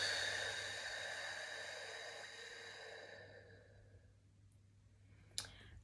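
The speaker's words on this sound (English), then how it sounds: "and we're gonna inhale" A long, deep inhale, a breathy rushing sound that fades gradually over about three seconds, followed by near quiet and a small click.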